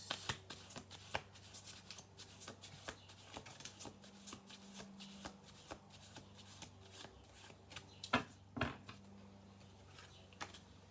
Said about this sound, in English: We'll do 2 more shuffle throughs.